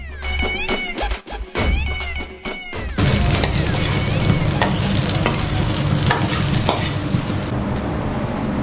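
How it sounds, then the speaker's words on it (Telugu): Chopped cashews and almonds hit hot ghee left over from frying bread, giving a loud, dense sizzle that starts abruptly after a few clattering, rattling knocks and then rolls on steadily, with occasional stirring scrapes. "ఫ్రై చేసుకున్న బ్రెడ్ తర్వాత మిగిలిన ఘీలో కట్ చేసుకున్న కాజు,"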